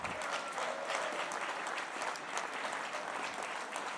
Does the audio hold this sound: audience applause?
yes